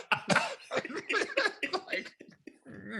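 A voice imitates a printer coughing with a run of rough, breathy, cough-like bursts, close and fairly loud, ending in a short voiced sound.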